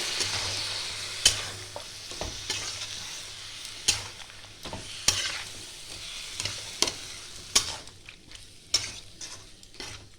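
Chopped cabbage cooks in a pan after water goes in, a steady simmering hiss broken by repeated sharp scrapes and clacks of a spatula stirring against the pan, close and without talk.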